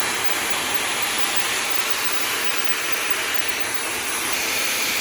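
A Dyson Supersonic hair dryer in Vinca Blue/Rosé special edition runs steadily at close range, giving a loud, even, breathy whoosh that holds unbroken with no talk over it.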